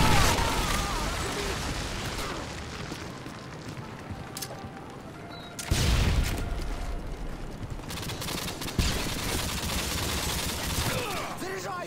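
Gunfire and explosions ring out on the Terminal map in a Modern Warfare 2 PC team deathmatch. Rapid bursts and pops crackle throughout, with a heavy blast near the middle and another thump later, under faint voice callouts.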